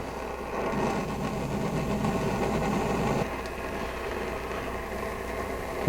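An Optimus Nova camping stove turned up high, burning with a steady, continuous roar close by, slightly dropping in level partway through, with no talking.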